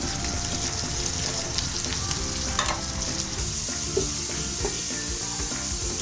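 Green beans and potatoes frying in oil produce a constant close sizzle with soft scraping stirs and occasional spatter pops, no voices over it.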